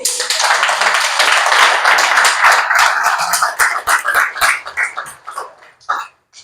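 Audience at a parents' school session claps for three winners, a loud dense burst of clapping that thins into scattered individual claps and fades out.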